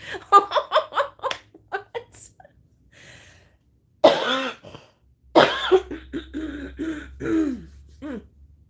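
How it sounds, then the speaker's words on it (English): A person coughs and clears their throat repeatedly, in close, loud fits separated by short pauses, with some laughing mixed in. "Sorry about that cough."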